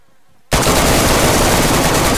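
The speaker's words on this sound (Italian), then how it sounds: "Questa spara con l'M4" M4 rifle fire in a video game bursts in suddenly after a short quiet moment, a loud continuous rapid automatic stream that runs to the end.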